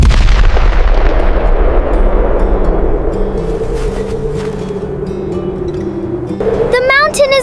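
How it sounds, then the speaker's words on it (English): A deep, loud rumble from a small snow avalanche on a mountain rolls on continuously, easing slightly over several seconds before a brief burst of other sound at the end. "The mountain is moving! It is a small avalanche!"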